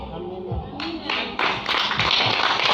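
A church congregation claps in loose, uneven bursts that build toward a fuller sound. Murmured voices sit underneath the clapping.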